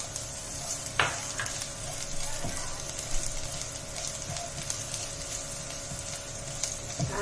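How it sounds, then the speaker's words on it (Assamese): Garlic fries in hot oil in a wok, a steady low sizzle with occasional stirring clinks and scrapes of a spatula, close and alone without talk. "নহৰুখিনি মই 15 ছেকেণ্ডমান ভাজি ল'লোঁ।"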